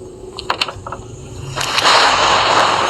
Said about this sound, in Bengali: কি বজ্রপাত হইতেছে।